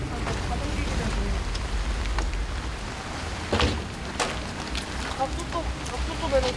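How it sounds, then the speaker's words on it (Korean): Steady rain patters on a flooded street in Okryong-dong, Gongju, South Chungcheong, a dense soft hiss with a few sharper drips and splashes standing out. "이곳엔 또다시 비가 내리고"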